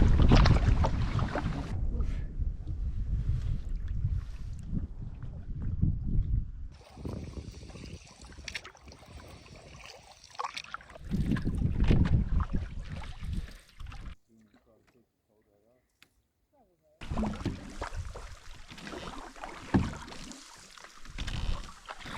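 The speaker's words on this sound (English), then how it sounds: "Yeah, it's a cool wind for sure." Gusty wind rumbles across the microphone while canoeing on the French River on a cool day, broad and blustery, with people talking over it and a brief lull near the end.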